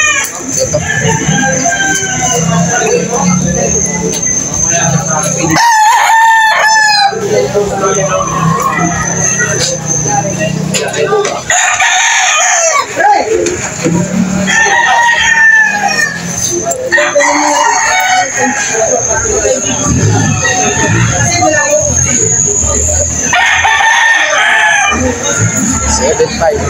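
Roosters crow repeatedly amid clucking chickens at a live poultry market in Lipa, Batangas, the crows rising loud and close over a constant din of birds while people talk nearby.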